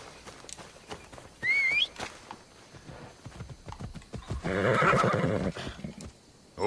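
A horse whistles and then gives a loud whinny in the video game Assassin's Creed Odyssey, amid clip-clopping hooves on the ground, with a louder burst of galloping and movement near the end.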